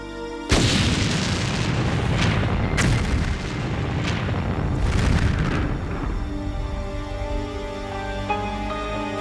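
A high explosive set off by a detonator erupts in one sudden, loud boom that rolls into a long, rumbling roar and fades over several seconds, with no voices.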